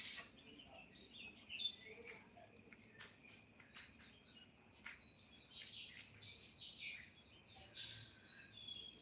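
Faint birds chirp and tweet in scattered short calls over a quiet outdoor background with soft insect buzzing.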